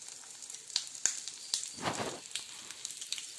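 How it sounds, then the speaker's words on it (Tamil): Halved boiled eggs fry with pepper powder in a pan, a faint, crackly sizzle with scattered sharp pops and a brief louder hiss swell in the middle, heard without speech. "இது கொஞ்சம் நல்லா ஃப்ரை ஆகட்டும்."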